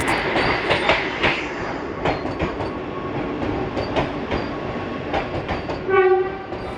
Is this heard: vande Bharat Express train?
yes